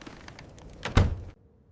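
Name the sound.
front door being opened, story sound effect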